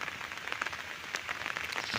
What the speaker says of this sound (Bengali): খুব সুন্দর বৃষ্টি পড়ছে কিন্তু